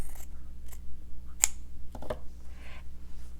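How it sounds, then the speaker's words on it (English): Scissors cutting fabric to size, several short crisp snips spaced irregularly at close range against a quiet background, no talk. "So I'll just cut this fabric down to size."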